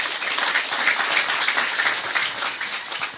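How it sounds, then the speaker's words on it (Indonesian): A live Indonesian religious talk audience breaks into dense, energetic applause, a continuous loud patter of many hands clapping throughout. "Tepuk tangan buat beliau."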